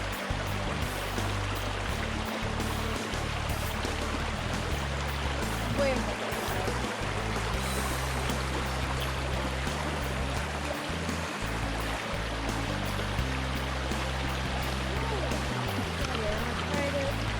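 Steady rushing water along a creek on the Moon Lake Trail at Fort Riley, Kansas, near a hidden waterfall, a continuous close wash of flowing sound, with hikers talking briefly over it.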